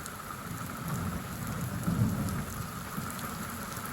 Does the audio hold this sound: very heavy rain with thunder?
yes